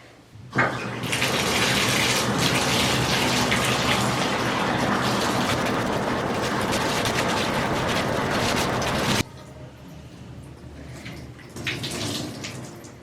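Shower or tap water running while hair is rinsed, a loud steady splashing rush that lasts about nine seconds, then cuts off to quieter dripping and brief splashes.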